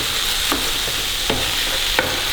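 Thai green curry mixture stirred in a pan, a constant frying hiss broken by three sharp spoon scrapes spaced about a second apart, close up with no voices.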